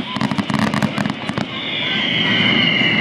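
Rapid crackling bursts of fireworks over Greenwood Lake, New York pop in a quick series, then give way to a loud sustained hiss and roar, with voices faintly mixed in.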